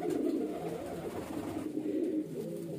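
A female bajri highflyer pigeon coos steadily and close by, a low, continuous rolling murmur lasting the whole stretch with no voices over it.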